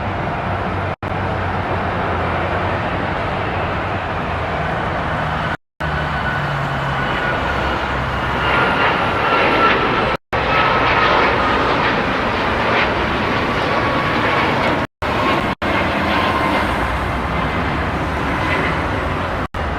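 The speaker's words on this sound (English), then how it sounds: "We have Alaska Max 9 to Kona." Alaska Airlines Boeing 737 MAX 9 departing for Kona, its broad steady jet roar sustained and fairly loud throughout, broken by a few brief dropouts.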